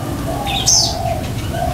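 A single bird calls briefly with a bright, high chirping phrase over a steady background hum.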